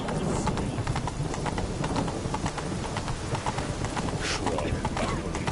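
Roach, Geralt's horse in The Witcher 3, clip-clops along in a steady galloping rhythm that runs throughout, close and fairly loud, mixed with game ambience and a speaking voice over the top.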